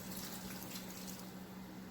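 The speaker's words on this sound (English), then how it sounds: "So now I'm going to add the water to it." Water mixed with curry is poured steadily into a cooking pot, giving a continuous close splashing rush with no talk.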